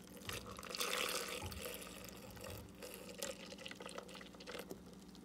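Milk pours onto scoops of vanilla bean ice cream and ice for a peanut M&M's milkshake, a soft, continuous liquid splashing and gurgling, faint and close, with no voices.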